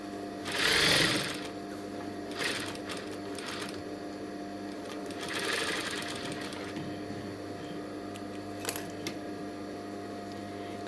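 A sewing machine gathers and stitches narrow fabric strips for a flower costume in short bursts of whirring, with quieter mechanical hum and a few clicks between runs.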